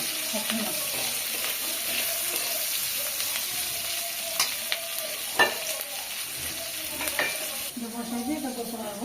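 Onion, garlic and green chilli sizzle in hot oil in a pan, a continuous bright frying hiss up close with a few sharp clinks of a spoon stirring.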